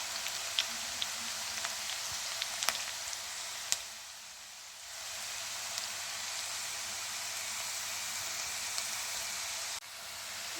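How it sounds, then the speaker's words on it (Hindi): Onions sauté in a pan on the stove, giving a steady, even hiss of frying with a few scattered crackles and pops. "अब हल्का सा हमारा प्याज सोते हो गया।"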